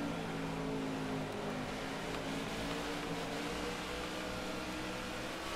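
A NASCAR stock car in NASCAR The Game, sliding through a drift at Richmond while wearing down its tires, gives a steady loud engine drone with a broad hiss of tire and road noise that continues unbroken.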